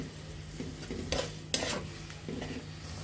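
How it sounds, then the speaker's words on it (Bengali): Ground spices, including chilli and coriander powder, sautéed together in a pan with tomato and onion for mola fish bhuna, a quiet crackling sizzle with a few metallic spatula strikes and scrapes, nearby and without speech. "এখন সবগুলো মশলা একসাথে কষিয়ে নেব ভালোভাবে"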